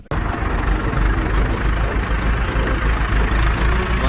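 A tractor engine runs steadily with a loud, low rumble that holds constant throughout, no variation in pitch or pace.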